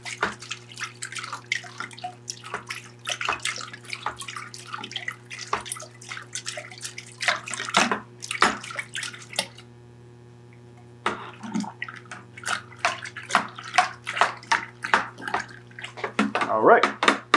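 Homebrew pineapple cider being stirred vigorously in a fermenting vessel to mix in oxygen, giving rapid sloshing and splashing bursts with a short quiet pause midway, over a steady low hum.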